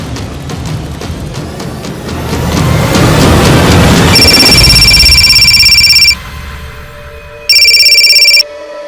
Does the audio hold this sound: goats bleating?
no